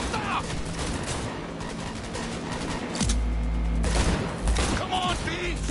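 Rapid gunfire bursts in the video game Cyberpunk 2077 during a vehicle chase, loud and continuous over engine rumble, with shouted voices in the mix.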